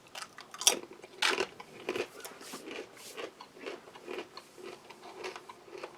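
A crispy baked snack from a kosher MRE is crunched close-up: sharp bites followed by a run of rhythmic, quieter chewing crunches.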